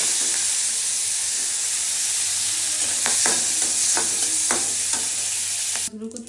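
Prawns frying in oil give a loud, dense, continuous sizzle and hiss up close, with a few utensil taps midway, then a sudden drop and scrape at the end, and no one speaking.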